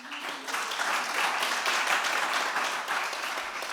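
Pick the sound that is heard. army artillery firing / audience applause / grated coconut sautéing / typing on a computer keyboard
audience applause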